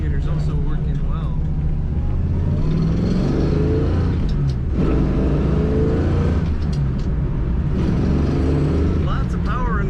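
A 1963 Chevrolet Bel Air two-door post with a four-speed manual, its engine droning steadily from inside the cabin while driving, with loud continuous road rumble and a few shifts in revs; someone talks over it.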